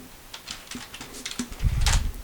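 Fingers tap on a computer keyboard in quick, uneven bursts of light clicks, close and quiet, ending with a slightly heavier cluster of keystrokes.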